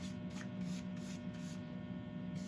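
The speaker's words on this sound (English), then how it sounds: "So we're going to go on with a shellac sealer." Shellac sealer sprayed onto a turned beech bowl: a steady, close hiss of aerosol spray with brief pulses, running over a constant low workshop hum.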